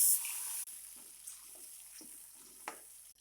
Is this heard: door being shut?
no